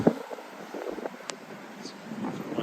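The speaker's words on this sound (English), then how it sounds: "It's a sharp wind blowing behind me." Cold February wind on a downtown Regina street, a steady broadband rush buffeting the microphone for the whole stretch, with faint city noise underneath and no clear talk.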